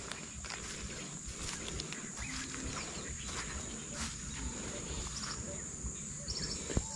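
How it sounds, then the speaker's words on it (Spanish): Steady bee buzzing and high whining hum fill the air outdoors, continuous and close around the head, with faint rustling beneath. "Y ya escuché las abejas"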